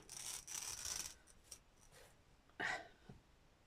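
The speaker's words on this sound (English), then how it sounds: "Scissors." Several short rasping snips of scissors slicing through textured backing paper, close by, with pauses between strokes and no talking.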